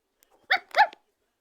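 A puppy gives two short, close barks in quick succession, clear against an otherwise quiet background.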